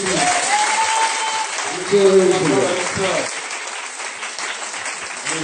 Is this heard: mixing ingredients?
no